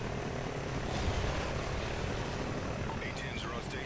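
Jet and propeller aircraft roar, consistent with an A-10 flying overhead in the video game Call of Duty: Ghosts, forms a loud, steady wash of engine noise throughout, with faint higher whines near the end.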